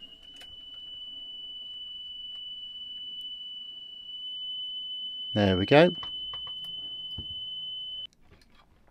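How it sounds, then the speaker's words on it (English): A steady high 3 kHz test tone plays alongside the 3 kHz tone from a cassette in a JVC RC-250LB radio cassette player, holding for about eight seconds. A brief spoken remark cuts in over it before the tone stops. "got a 3 kHz tone that I've played alongside a 3 kHz on the actual tape"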